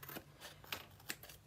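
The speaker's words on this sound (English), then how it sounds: "with your scissors, we can trim those off cuts" Scissors trim paper offcuts at a scrapbooking craft table, three or four crisp close snips spaced across a quiet moment, with no talk.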